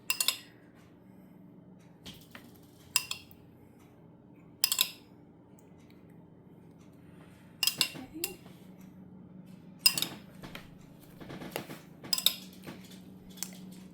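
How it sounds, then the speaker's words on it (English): A tablespoon scooping topping onto stuffing balls in a baking dish gives quiet, spaced clinks and taps of metal against the dish over a low hum. "We're just going to put 1 tablespoon on top of each of our stuffing balls"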